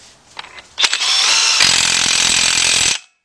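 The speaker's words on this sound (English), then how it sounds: "Let's tighten up this nut. 33 millimeter, half inch drive with the DeWalt." A DeWalt half-inch drive impact wrench drives a 33 mm axle nut on a 2007 Nissan Altima, with a brief trigger blip and then a loud, steady hammering rattle lasting about two seconds before stopping abruptly.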